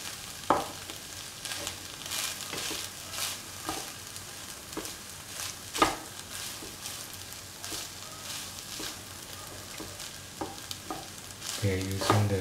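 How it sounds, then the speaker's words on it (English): Rice with okra masala is stirred in a pan over a low flame, giving repeated scraping strokes against a soft, steady sizzle, with a louder clatter near the end. "And mix the rice with the other ingredients. This has to be done in a low flame."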